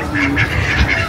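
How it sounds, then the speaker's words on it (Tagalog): Several kinds of ducks, including Philippine ducks, quack repeatedly at an outdoor park in Meycauayan, Bulacan, their calls loud and close over a steady background murmur. "iba-ibang klaseng bibe"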